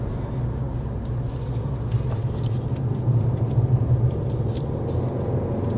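A 2026 Kia K4 hatchback is driven hard through corners on a curvy country road in Kentucky. Steady engine and road rumble fills the cabin, rising slightly in the middle, with a faint voice in the background.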